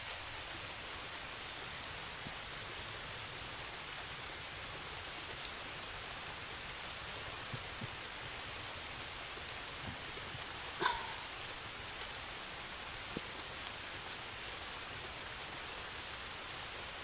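Rain falls outdoors under leafy cover as a faint, steady hiss, with a few scattered drop taps and one brief louder tap partway through.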